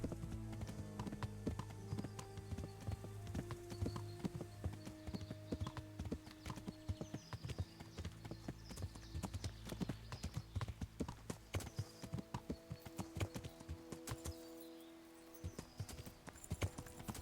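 Horse hooves clip-clop steadily across the ground in the medieval video game Kingdom Come Deliverance, a rhythmic close trot running the whole way with game music and ambient tones beneath and occasional brief snorts.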